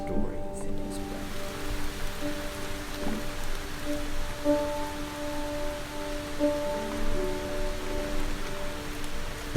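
Steady rain falls on a surface, making a dense, even hiss of raindrops throughout, with sustained tonal music-like hums running underneath.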